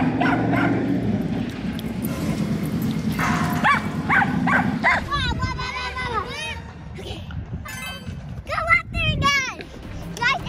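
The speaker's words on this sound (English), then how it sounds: "So we did see three or four dogs in the dog park" Several dogs at an outdoor dog park bark and yip in repeated sharp bursts, some near and some farther off, with whimpers in between, while people and children talk in the background.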